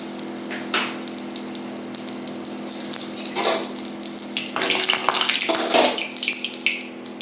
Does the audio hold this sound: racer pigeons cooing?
no